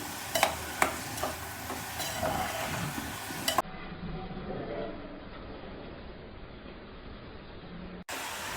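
Salt and turmeric are mixed into a cluster bean fry in a pan with a few sharp spoon taps and scrapes, then a softer, continuous sizzle and stirring rustle, close and moderately loud.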